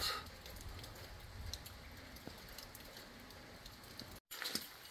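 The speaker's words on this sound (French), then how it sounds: "il pleut ici au temple 60" Rain falls steadily at a Buddhist temple on Shikoku, a soft continuous patter and hiss with no talk, broken by one brief dropout near the end.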